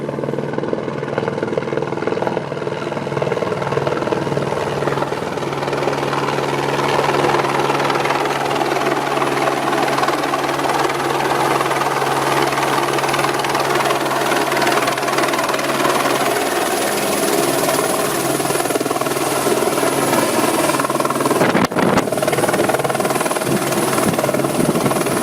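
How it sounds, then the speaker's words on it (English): A medical helicopter landing on a hospital helipad, its rotor and turbine producing a loud, steady, close whine and thrum with sustained engine tones throughout, briefly dipping near the end. "The helicopter should land with the patient access doors facing the helipad access doors."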